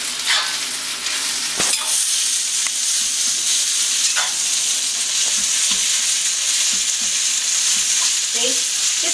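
Pad thai fries in a hot pan after thick black soy sauce is added. It makes a loud, continuous sizzle close up, with occasional sharp clacks and scrapes from stirring, and no voices.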